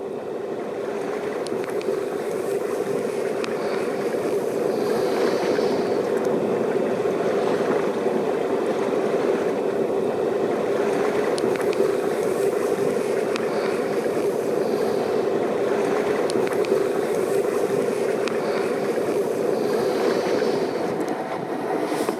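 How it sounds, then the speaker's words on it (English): Sailboat Makara under way heading north through Puget Sound, a steady, even rush of wind and water with hull and wave noise running unbroken throughout, no voices. "we were dodging logs, sailing Makara north through Puget Sound"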